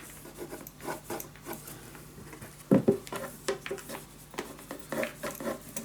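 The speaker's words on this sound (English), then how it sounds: "make the effort to burnish it down so it's nice and tight" Paper being burnished down onto a scrapbook suitcase makes close, uneven rubbing and rasping strokes, with one stronger scrape near the middle followed by quicker, lighter rubs.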